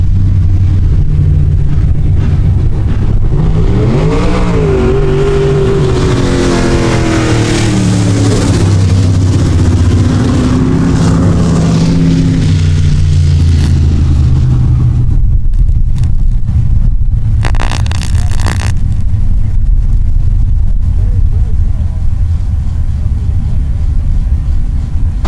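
Midwest late model race cars at a dirt-track heat race, with loud, roaring engines surging and passing close, then thinning to a wind-buffeted rumble.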